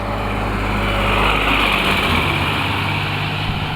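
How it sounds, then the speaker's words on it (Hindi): A tractor engine drones close by on a rural road in the early morning, a loud, steady low rumble with a mechanical whine above it, passing without any voices. "1 मिनट ज़रा, ट्रैक्टर जा रहा है।"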